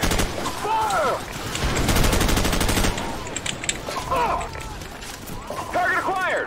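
Rapid bursts of automatic gunfire in Call of Duty: Modern Warfare, loud and dense through the first half, then thinning as in-game voices shout over scattered shots.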